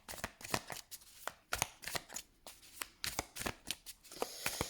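Tarot cards being shuffled and laid out, giving a steady run of crisp card flicks and snaps at an even, quick rhythm, close and fairly quiet, with no voice over them.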